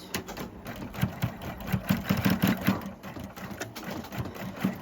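A sewing machine runs in a quick burst, stitching a back tack across a lined cummerbund with a fast, steady mechanical chatter close by, and no voices.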